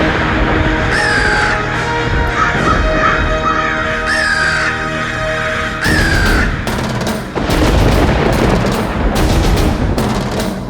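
Many crows caw loudly and repeatedly, their harsh calls overlapping in a dense flock against a busy, noisy background.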